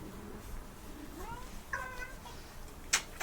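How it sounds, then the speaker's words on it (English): A cat meows indoors during a wrestling review, a short rising harmonic call near the middle followed by a brief sharp squeak, faint and close over a low background hum. "Stinky Cat's here"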